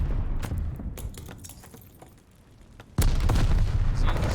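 A grenade explodes during an esports shooter match, a sudden loud boom near the end cutting in over a busy bed of game noise and scattered clicks.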